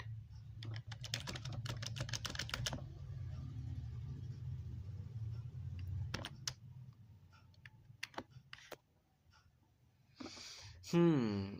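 Someone types fast on a computer keyboard, giving a dense run of clicking keystrokes and then scattered single taps over a steady low rumble. A voice is briefly heard near the end.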